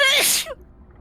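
A single sharp sneeze, loud and close, bursting out and cutting off quickly into quiet.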